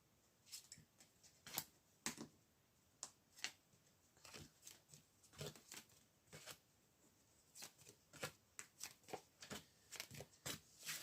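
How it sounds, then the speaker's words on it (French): Tarot cards being shuffled by hand, a steady run of crisp riffling and slapping bursts repeating close up without any talk. "on va tirer des cartes sur l'énergie tierce"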